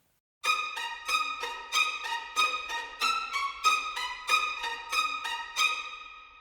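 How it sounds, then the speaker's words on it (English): After a brief silence, second violins playing spiccato an octave lower bounce through a quick run of short, crisp detached notes in lively rhythm, lower and warmer in pitch. "I'm also just going to put the second violins into spiccato as well."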